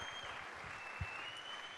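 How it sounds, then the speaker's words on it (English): Crowd applause for Cameron Smith, a captain and 400-game NRL player, at a presentation event: an even, sustained clapping from a crowd at moderate distance, with a single sharper knock partway through. "Give him a big round of applause."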